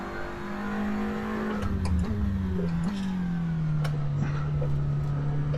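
A SEAT Leon TCR touring car in Assetto Corsa holds a steady, droning engine note that dips and shifts slightly across the few seconds, with faint ticking and clicks over the continuous motor sound.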